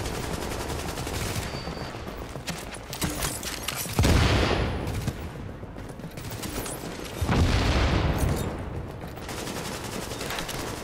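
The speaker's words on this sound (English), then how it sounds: "Bust out the big machine guns." Heavy automatic rifle and machine-gun fire in a Division Dark Zone shootout, sustained rattling volleys with two louder close bursts that swell and fade, and no talking over them.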